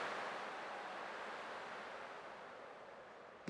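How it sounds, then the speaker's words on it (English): Ocean waves in the Honkai: Star Rail video game, a steady broad wash of surf that fades slightly over a few seconds, quiet and continuous with no voices. "I can still clearly hear the sound of the waves"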